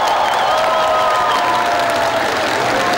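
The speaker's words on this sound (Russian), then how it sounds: "народ овациями встретил гостя" A crowd at a factory in Naberezhnye Chelny greets an arriving guest with sustained, loud applause, dense clapping mixed with some cheering that holds steady throughout.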